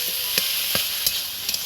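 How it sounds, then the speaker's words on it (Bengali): Boiled taro flowers fry with onion in a pan, giving a steady close sizzle broken by a few sharp spatula scrapes and stirring knocks. "আর ভাজতে থাকবো।"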